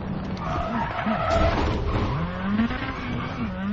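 A rally car engine in the video game WRC 10 drops in pitch as it brakes hard, tires squealing and skidding loudly and continuously before the revs climb again.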